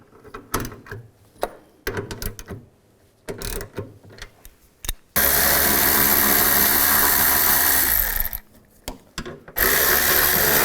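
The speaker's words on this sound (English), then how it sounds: "We're going to use a 13mm socket. Take these 4 bolts out," A power tool, likely an impact driver or ratchet on a 13mm socket, spins out bolts on a 2007-2013 Chevrolet Silverado during blower motor resistor replacement, with short bursts followed by a long loud sustained run.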